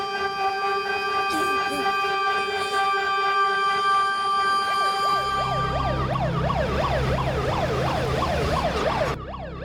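Ambulance siren, loud and close, starting as a long steady tone and then switching to a rapid rising-and-falling wail before cutting off abruptly, with an engine rumble beneath.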